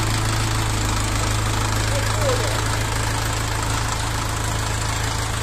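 A LOVOL 35 hp mini tractor with a four-cylinder diesel engine runs at a steady idle, a loud, close, continuous low rumble with knocking vibration, and a voice speaks over it.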